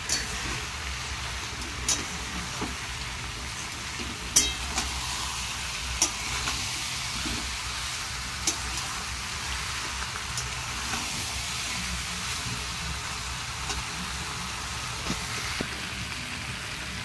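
Spice masala sautés in a pan with a soft, constant sizzle, broken every couple of seconds by sharp clicks and taps of a spoon stirring against the pan.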